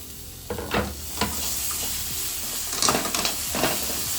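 Grated carrot, onion and tomato stirred in a kadai, with a constant sizzling hiss and several scraping, clattering stirs of a spoon against the pan.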